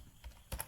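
Keys clack on a computer keyboard while code is typed for a beginner Python project, with a soft tap early on and a quick cluster of sharper strokes near the end of the brief moment, fairly close.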